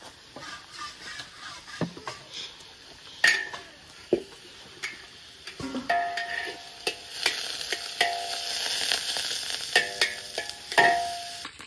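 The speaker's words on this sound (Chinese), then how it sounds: "把那个油炸出来先" Pork fat renders in a hot wok, a bright hissing sizzle that builds and grows denser through the second half, broken by scattered clinks and scrapes of a metal spatula against the pan, with no talking.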